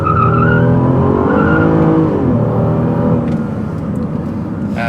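A 2014 Chevrolet Impala LTZ's 3.6-liter, 305-horsepower V6 engine revs up and down loudly nearby, its pitch rising and falling, then settling into a rougher idle with a brief squeal.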